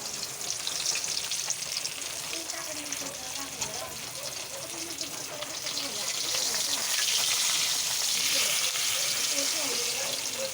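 Ginger, onion and chili sautéing in a pan give a dense, continuous sizzle that swells slightly louder toward the end, close up, with faint voices now and then beneath the frying.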